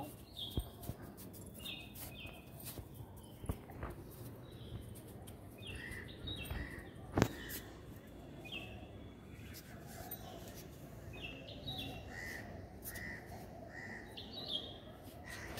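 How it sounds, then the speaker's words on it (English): Birds chirp outdoors with short, faint calls repeating at intervals over low ambient noise, while people talk intermittently nearby. "There's a bird"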